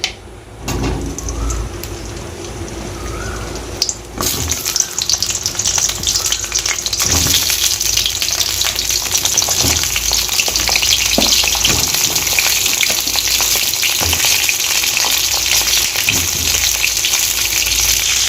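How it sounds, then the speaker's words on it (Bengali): Pointed gourd (potol) pieces frying in mustard oil in a kadai, a loud, steady sizzle that starts quieter and swells after a few seconds, with occasional stirring scrapes and no talk. "এবার আমি পটলগুলো ভেজে নেব"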